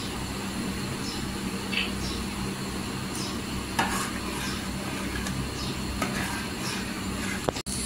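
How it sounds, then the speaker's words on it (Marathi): Dal simmering in a pot on a gas stove, a soft steady bubbling and hiss with faint scattered pops and a sharp utensil clink near the end, close and quiet. "इथे डाळीला उकळी आलेली आहे छान अशी"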